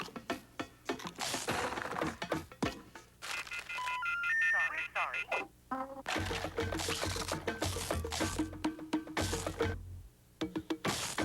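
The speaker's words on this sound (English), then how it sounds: "So I just dial 1010-321 before 1 in the number." Touch-tone telephone dialing from a TV advert for a long-distance calling code: a quick run of stepped beeps in the middle, surrounded by voices talking and other advert sounds.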